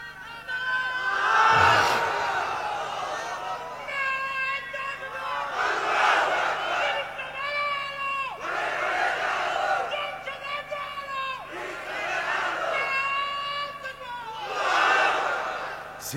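Large sermon gathering: a crowd repeatedly roars the Islamic chant Naraye Takbir in call-and-response, each swelling shout answered in waves about every two to three seconds, loud and reverberant.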